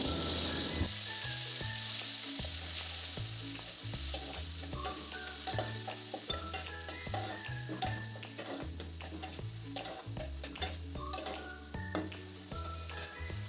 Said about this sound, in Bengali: পেঁয়াজ, আদা, রসুন আর কাঁচা লঙ্কা একসাথে বাটা, সেটা আমি 2 চামচের মতন দিয়ে দিলাম।